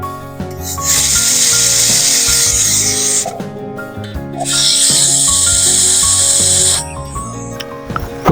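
A pressure cooker cooking dal lets out two long loud hissing bursts of steam, each lasting a couple of seconds, separated by a short quieter gap, with no voices.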